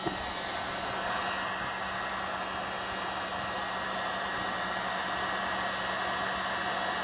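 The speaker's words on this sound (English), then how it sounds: "How about heat gun there?" Heat gun blowing hot air during a freezer repair, a steady, close, loud airy whoosh with a faint motor whine underneath, running unbroken throughout.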